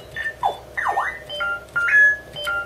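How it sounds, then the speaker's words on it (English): Synthetic alarm effects from an Atari Vox+ speech module: a string of electronic chirps and up-and-down sweeping tones with steady beeps between them, close and fairly clear against a faint hum. "Alarms."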